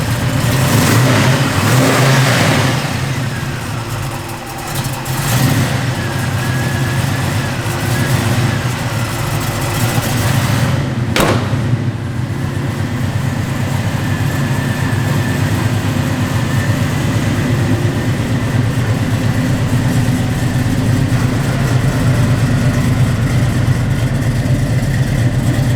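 A 1966 Chevrolet Chevelle convertible V8 with a cam lopes at idle and rises in revs, a loud, rough, rumbling engine note that holds steady throughout.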